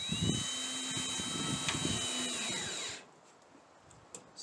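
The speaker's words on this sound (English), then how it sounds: "these screws are going through both panels into the wood on the inside" A power drill drives screws through the panels of an Arrow Ezee metal shed into the wood behind them. The loud motor whine runs steadily for about three seconds, then cuts off, leaving quiet room tone with a few small knocks.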